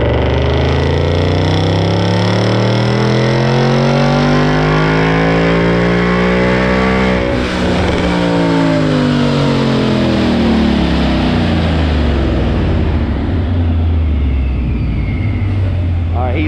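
A 2019 Mustang GT with a P1X ProCharger supercharger makes a dyno pull, its engine revving loudly and climbing steadily in pitch for about seven seconds, then dropping and winding back down.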